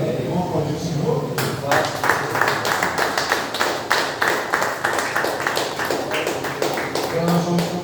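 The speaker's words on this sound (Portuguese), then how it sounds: "Vamos aplaudir o Senhor?" Church congregation applauding after a sermon, a dense burst of many hands clapping that starts abruptly and continues steadily, with voices and cheering mixed underneath.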